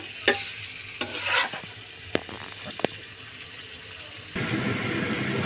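Mutton liver stir-fried in oil with a ladle gives scraping strokes and sharp clinks over a low sizzle, and the hiss swells louder and steady near the end.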